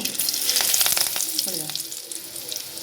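Curry leaves drop into hot oil for a Bengali-style semolina upma, bursting into a loud crackling sizzle that gradually settles into a quieter fry.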